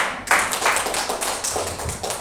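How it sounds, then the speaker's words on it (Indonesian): Applause from a seminar audience at an education dissemination session, heard as a short, dense wash of clapping that starts abruptly and holds steady, close and fairly loud. "Tepuk tangan."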